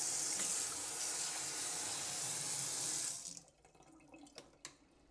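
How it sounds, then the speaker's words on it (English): Water pours steadily from a faucet into a stainless steel double basin farmhouse sink, a loud even hiss that stops abruptly, leaving faint drips and splashes draining away. "when you run the water,"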